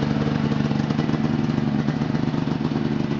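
Ski-Doo Rev snowmobile engine running steadily after starting, a loud close two-stroke idle with an even rapid pulsing chug and no voices.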